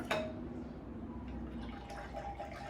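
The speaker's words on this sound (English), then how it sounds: "And then just pour it all in here together." Liquid pours softly into a container with faint trickling and a light clink, quiet and close, while mixing homemade hair gel.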